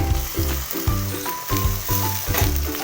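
Ginger, garlic and green chili paste sizzles in a pan with already fried onions for a chicken masala, a steady loud frying hiss with rhythmic scraping stirs every half second or so.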